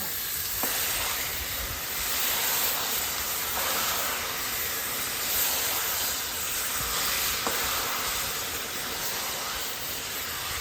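Steady frying hiss and sizzle as melting sugar and palm nut are stirred together in a pot for Liberian sugar palm, with occasional soft scrapes of the stirring cutting through a constant bubbling wash.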